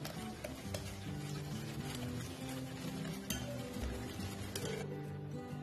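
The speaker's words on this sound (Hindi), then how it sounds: "हम फिर से अच्छे से फेंट लेंगे।" Plum cake batter beaten with ghee in a bowl for a Christmas cake makes a continuous soft stirring and scraping with occasional light clinks of a spoon against the bowl, close and quiet, with no speech.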